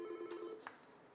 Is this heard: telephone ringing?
yes